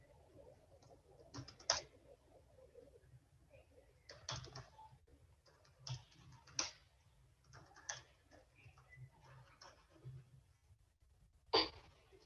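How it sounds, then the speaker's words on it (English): Computer keyboards clatter in an online math class, quiet bursts of key presses and clicks arriving every second or two with pauses between, close and fairly faint, no talking. "Let's start typing out."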